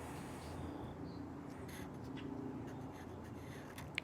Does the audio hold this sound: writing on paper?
yes